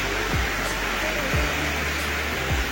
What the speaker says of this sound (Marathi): दुपारी पाऊस खूप जोरात आलेला आहे.